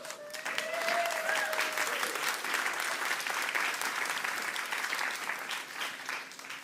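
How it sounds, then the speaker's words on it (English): An audience applauds at a writers' awards ceremony, steady dense clapping that fills the room from start to finish at even loudness. "we might get bored of applauding, but probably not yet"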